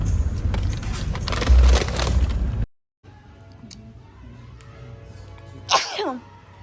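A woman sneezes once, a sharp close burst that stands out clearly after a stretch of store background noise and a brief silence.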